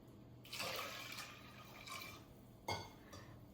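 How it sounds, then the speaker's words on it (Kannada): Water is poured over roasted, rinsed moong dal and sago in a pot before it goes on the stove, giving a soft splashing pour with a couple of later splashes and clinks, faint and fairly close. "ಇವಾಗ ಇದು ನೀರು ಹಾಕಿ ಸ್ಟವ್ ಮೇಲೆ ಇಡೋಣ."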